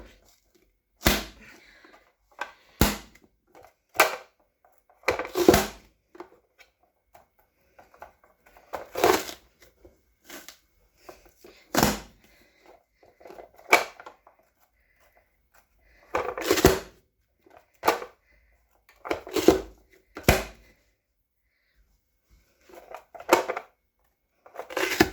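A knife chops peppers into smaller pieces on a cutting surface, sharp isolated cuts landing at irregular intervals, close and fairly quiet, with near silence between strokes and no talking.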